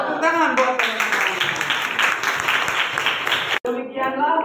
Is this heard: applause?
yes